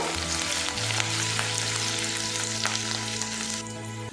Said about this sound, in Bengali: পেঁয়াজটা আমি ভাজা ভাজা করে নেব